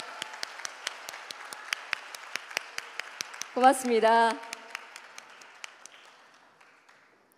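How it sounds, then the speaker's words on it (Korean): Scattered audience clapping at a robot newspaper's 10th anniversary celebration after a percussion performance team's set, with sparse individual claps, a brief burst of speech in the middle, and the clapping thinning out toward the end. "여러분 다시 한번 화려팀에게 큰 박수 보내주십시오."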